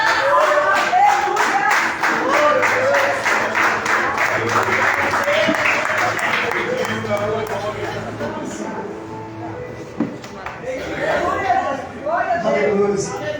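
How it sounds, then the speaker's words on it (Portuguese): Standing congregation at a church service claps together in a fast, rhythmic beat, loud and close, with a voice speaking over it; the clapping fades midway and loose applause returns near the end. "Fica de pé e aplauda Jesus."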